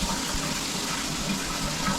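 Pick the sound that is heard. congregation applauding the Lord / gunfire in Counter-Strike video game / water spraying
water spraying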